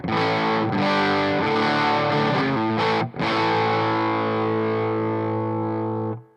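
Distorted electric guitar through a Bluguitar Amp1 ME set with the master at 2, playing sustained chords and notes with a brief gap near the middle, loud and alone before ringing out.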